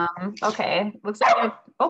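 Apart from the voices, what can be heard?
dog barking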